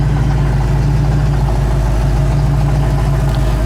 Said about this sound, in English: Too bad that damn exhaust is rattling a little bit